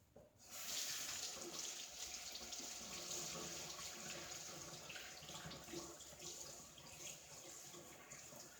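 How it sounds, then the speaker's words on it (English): Tap water runs steadily into a sink while hands are washed in a home kitchen, starting abruptly and continuing as a loud, even hiss without talk. "Now, just let me wash my hands."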